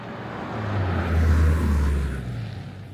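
A Range Rover Sport pulls away onto the road, its low engine rumble swelling and then settling into a steady drone of driving and road noise, close and continuous with no one talking.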